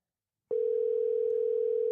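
A telephone dial tone starts abruptly after a short silence and holds as a steady, clean, unbroken hum, heard alone while calling a race winner.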